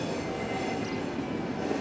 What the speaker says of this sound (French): le fait que les trains soient là, au contraire, pour vous, c'est des bruits de fond ordinaires